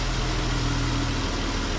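A 2012 Jeep Wrangler, just given a swapped-in 3.6 engine, idles as a steady, loud low rumble close by, with no one talking.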